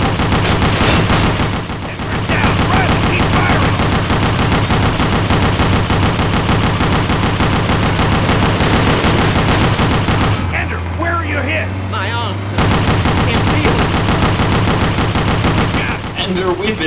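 Sustained turret machine gun fire in a Call of Duty Battle of the Bulge mission, loud rapid bursts with dense battle noise throughout and a brief lull near the end, with voices under the gunfire.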